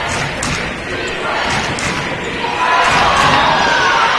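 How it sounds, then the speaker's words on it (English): Gym crowd at a girls' high school basketball semifinal swelling into a loud protesting roar, calling for a travel, with thumps from the court and a commentator talking over the noise. "Crowd wants to travel on that one as McKee goes in the lane"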